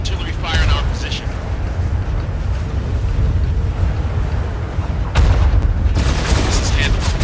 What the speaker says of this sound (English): Artillery fire in our position.